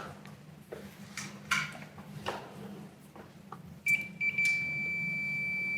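A multimeter continuity tester checks wiring on Wago connectors, with handling clicks and taps on the probes followed by short chirps and then a sustained steady electronic beep, close and clear.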